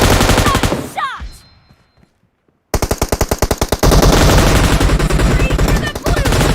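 A golden machine gun in PUBG Mobile fires loud rapid bursts, cutting out into near silence for about a second before resuming in a dense, sustained rattle of automatic fire.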